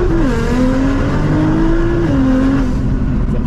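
A Nissan GTR engine roars loud and close as it revs and accelerates, the pitch climbing through gear changes with brief dips between shifts, a continuous powerful drone throughout with no talk.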